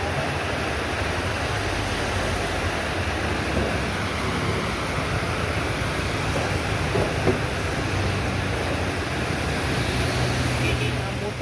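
Heavy rain pours steadily in a dense, continuous roar of broadband noise, loud and unbroken throughout, with no clear talk standing out above the downpour.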